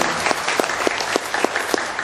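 Applause from an audience at a testimony gathering, brisk clapping with a few crisp rhythmic claps standing out, moderately near.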